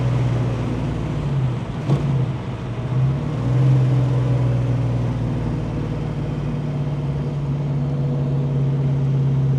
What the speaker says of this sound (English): That's a healthy running small block Ford.